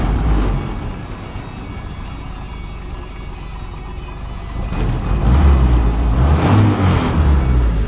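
A WWII Ford GPW Jeep engine with new piston rings turns over and idles with a steady rumble, then revs louder from about the midpoint, close by and with no talking.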